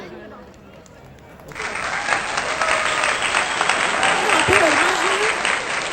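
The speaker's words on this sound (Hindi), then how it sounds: "तो चलिए के लिए जोरदार तालियां हो जाए" Loud audience applause swells up after a brief quiet start and keeps going steadily, with a voice calling out briefly over the clapping near the end at a lively anchored stage event.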